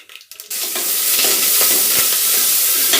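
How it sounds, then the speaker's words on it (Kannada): Mustard seeds, cumin, dried red chillies, curry leaves and onion hit hot oil. A short quiet rustle gives way to a sudden loud burst of sizzling and spattering that holds steady and close to the end. "ಸಾಸಿವೆ ಹಾಕೋತಾ ಇದ್ದೀನಿ ಸ್ವಲ್ಪ ಜೀರಿಗೆ ನಾಲ್ಕು ಒಣಮೆಣಸಿನ್ಕಾಯಿ ಕರಿಬೇವು ಈರುಳ್ಳಿ"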